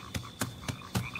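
Frogs croak in the background of the video game Spore, four evenly spaced, clear croaks with short gaps between them.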